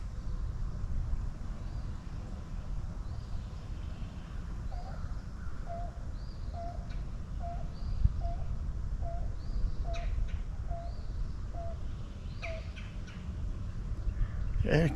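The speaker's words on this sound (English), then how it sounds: "I've never heard that bird call before." A bird repeats a short, odd-sounding call about ten times at an even pace, moderately distant, over steady wind or outdoor rumble on Lindsey Hollow Road near Waco, Texas.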